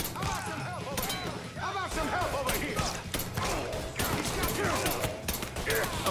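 Pistol gunfire from the Mafia III video game cracks out in repeated bursts amid echoing game action and clatter, with a player's voice talking over the shots.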